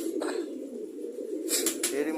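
Pigeons coo steadily in an indoor pigeon room, a low continuous cooing close by, with brief louder rustles or flaps near the end.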